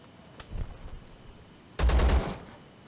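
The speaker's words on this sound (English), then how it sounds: "But they keep firing at you as long as they're alive." Enemy gunfire in the game Zero Sievert: a few scattered shots early on, then a loud, dense burst of rapid fire near the end, with no talking.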